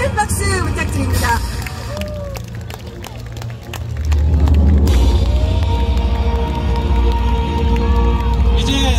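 Large outdoor crowd at a provincial sports festival opening ceremony applauding and cheering for the final torchbearer, a steady roar of clapping and babble that swells louder midway, with an announcer's voice over it.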